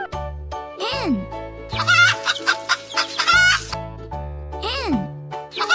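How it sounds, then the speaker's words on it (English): A hen clucks in quick bursts between louder squawking calls, close and busy, with background music running underneath. "Hen."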